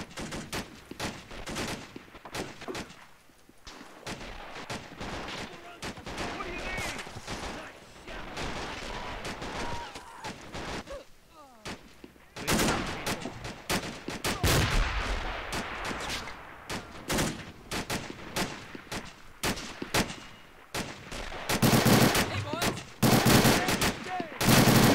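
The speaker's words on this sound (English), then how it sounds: "Oh, they went mortar." Mortar blasts and dense gunfire from a 3v3 online match of the war strategy game Men of War: Assault Squad 2, with loud, rapid bursts and booms filling the whole stretch and occasional talk beneath.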